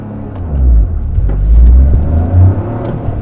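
A turbocharged Toyota GR Corolla engine revs hard during a launch, a loud low rumble rising and falling over a few seconds with no talking.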